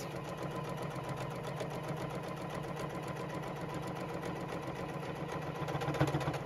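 A JUKI sewing machine stitches slowly over bulky tote bag seams, giving a steady, even mechanical hum at moderate level with a faint rhythmic chatter and a slight swell near the end, with no voices.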